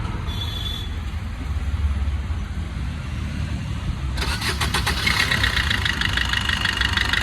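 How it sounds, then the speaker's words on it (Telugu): A 2015 Maruti Suzuki S-Cross diesel engine turns over and settles into a steady, rattly idle with a low continuous rumble, close to the microphone. "ఇంజన్ స్టార్ట్ చేసి కూడా చూపిస్తాను ఒకసారి చూడండి"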